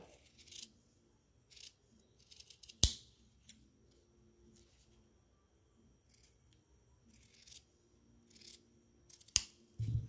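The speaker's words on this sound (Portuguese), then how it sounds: "E agora é só cortar as pontas." Scissors snip the ribbon ends of a craft bow, a quiet, close series of short crisp cuts and clicks scattered over a near-silent background, with two sharper snaps.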